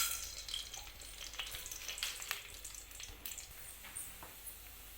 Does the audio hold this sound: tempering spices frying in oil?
yes